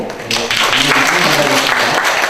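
Applause from the audience at a Korean public-office innovation relay event, clapping swelling in after a brief voice at the start and continuing fairly close and loud.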